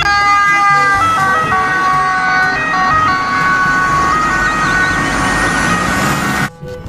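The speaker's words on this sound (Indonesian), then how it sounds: "Yang ini ada mobil ambulans." A loud wailing toy ambulance siren, sustained and close, cycling between tones for several seconds before cutting off abruptly.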